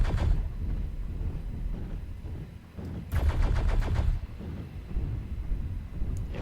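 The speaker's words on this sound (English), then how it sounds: "we could just chain fire with this thing, because these are pulse lasers, not regular medium lasers" Chain-fired pulse lasers from a mech in MechWarrior Online, a fast rattling stream of sharp shots over a low rumbling engine drone, with a dense burst of rapid pulses standing out in the middle.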